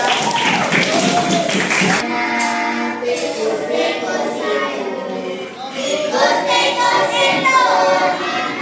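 A classroom group claps for a student, brief applause mixed with children's voices and chatter throughout.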